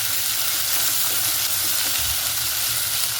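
Onions and green chillies sauté in a pan in a Kerala-style home kitchen, giving a steady, close sizzle with a constant hiss that runs unbroken and fairly loud throughout, with no talking.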